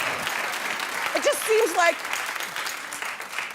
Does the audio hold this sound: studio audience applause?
yes